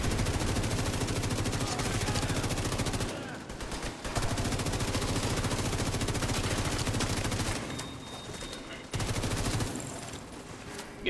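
Rapid automatic gunfire from a weapon in The Division 2 rattles continuously and loud, broken by a couple of short pauses before bursts resume.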